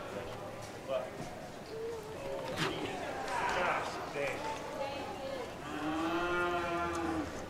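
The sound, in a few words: cattle mooing at a cattle competition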